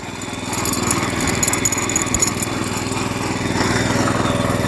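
A small walk-behind tractor with winter tires, loaded, strains against a slight snowy incline, its engine droning steadily and loudly with a rough, labored chug and no voices over it.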